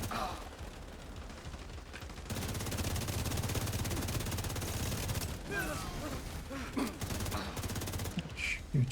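Video game gunfire, heard as continuous rapid automatic bursts, loud and steady through most of the stretch, with a few sharper shots and mechanical clatter near the end.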